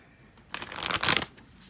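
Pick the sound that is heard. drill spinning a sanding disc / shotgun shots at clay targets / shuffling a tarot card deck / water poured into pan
shuffling a tarot card deck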